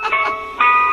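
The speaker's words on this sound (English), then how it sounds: "The ice cream truck sound?" An ice cream truck jingle sound effect plays loud and alone, a bright tinkling melody of sustained chime-like notes across about a second.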